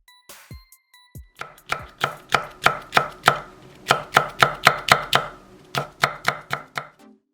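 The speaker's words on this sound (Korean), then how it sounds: "청고추 1개는 슬라이스," Knife chopping a green chili pepper and beef brisket on a cutting board, a steady run of about twenty sharp, close chops in quick even rhythm with brief pauses, loud and clear, no voices.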